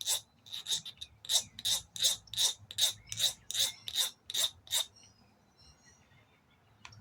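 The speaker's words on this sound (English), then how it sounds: "I have a bead reamer, which is like a file." A bead reamer rasps against a meditation bead in about a dozen quick, evenly spaced filing strokes, close and crisp, then stops, leaving a quiet background.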